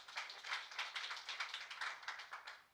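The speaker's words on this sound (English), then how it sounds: "a round of applause to Tom" Applause from an audience at an agribusiness youth competition, a steady patter of many hands clapping for a presenter, fairly faint and continuous with no voices.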